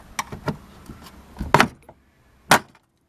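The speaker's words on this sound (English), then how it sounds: "now you get your flat bladed screwdriver and start to prise the door card off" Flat-bladed screwdriver prising the plastic door card off a Fiat Punto Grande front door, giving a few sharp clicks and snaps of clips releasing, two louder pops standing out, close and with no talking.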